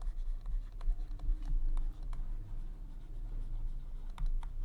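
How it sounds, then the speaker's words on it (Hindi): A pen scratches across paper while a maths integration solution is written out, quick close strokes and taps in an uneven rhythm over a low steady background hum. "यहाँ हम लोग लिखेंगे यूजिंग द अबव रिजल्ट्स"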